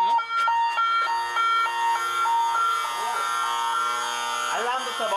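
An electronic alarm at an eel farm rings loudly in repeated tonal beeps, a piercing patterned signal filling the room while a person talks over it.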